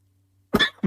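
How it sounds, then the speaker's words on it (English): A person coughs in a short, harsh burst of two or three barks, close and loud, after near silence with a faint low hum, during a casual podcast conversation about wrestling events. "Cough attack here."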